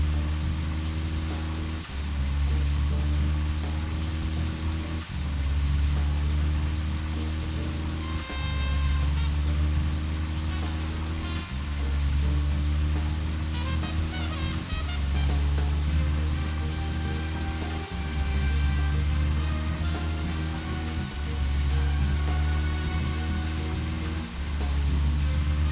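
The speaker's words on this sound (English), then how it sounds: "how is it that Nick has the courage to be out on the town when it's raining?" Rain pouring in the video game Deadly Premonition, a constant hiss of falling drops over a low looping backdrop that runs the whole clip with no talking.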